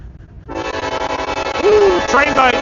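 A train passing near the Susquehanna River, its loud rumble starting abruptly with a long sounding horn and clanking railcars, close and dominant throughout.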